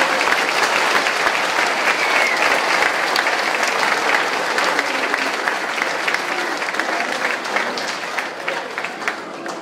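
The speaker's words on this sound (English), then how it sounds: "Let's give the one more round of applause." Sustained, loud applause from an audience at a primary school awards event for first and second graders, a dense continuous wash of many hands clapping with some crowd murmur, fading slightly toward the end.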